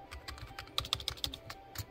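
Keys clatter on a computer keyboard attached to a 14-year-old Dell Optiplex desktop, with rapid close taps and a few sharper strokes.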